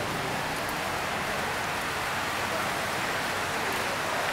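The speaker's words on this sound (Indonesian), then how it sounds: "Hujan juga sudah sampai." Rain falling outdoors during a sunny shower, a dense, steady hiss that fills the air evenly and continuously at moderate loudness with no break.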